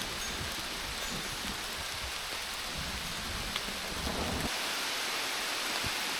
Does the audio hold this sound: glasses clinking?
no